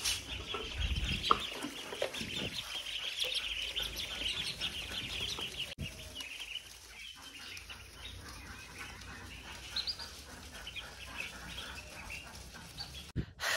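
Local chickens on a farm cluck softly and continuously at a distance, with faint scratching and rustling and an occasional duck-like note in a quiet, steady scene.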